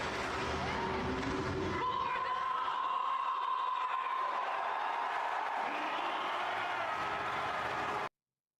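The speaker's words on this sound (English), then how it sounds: "Crowd goes nuts." A crowd in a World of Warcraft cinematic erupts into loud, sustained cheering and whooping, a steady roar of many voices with a rising tone near the middle.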